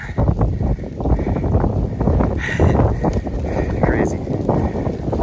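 On the Appalachian Trail, gusty wind roars across the microphone while a person talks in cold hail; the hail itself is hard to pick out.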